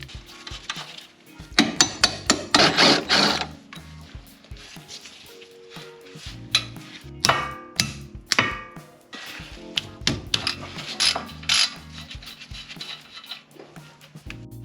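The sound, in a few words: removing a bolt holding a fork on a Honda Civic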